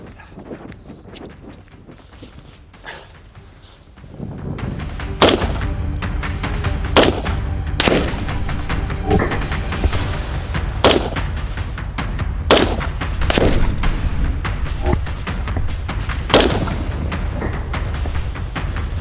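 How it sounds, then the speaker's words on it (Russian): Sharp shots from a CZ BREN 2 rifle crack out one at a time at irregular intervals, loud and close, over steady outdoor background noise. "А теперь немножко отойду подальше и правее выстрелю."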